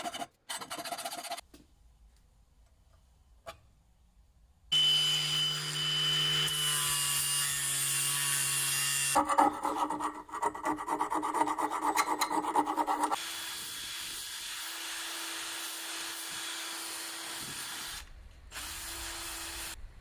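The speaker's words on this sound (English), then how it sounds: "I just have to sand, grind, and saw off those chunks" Rough chunks are sanded, ground and sawed off a cast gold-coloured metal star, in separate bursts of scraping, rasping and whining tool noise broken by quiet pauses.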